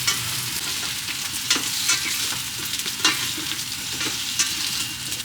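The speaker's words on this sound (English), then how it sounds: "The potato becomes translucent, so I put mushrooms inside and stir fry." Sliced potatoes stir-frying in a hot pan with mushrooms, a steady sizzle broken by irregular scraping stirs of the utensil, close and clear with no talking.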